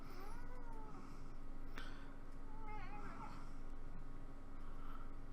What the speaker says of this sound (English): I think my cat's telling me it's time for bed.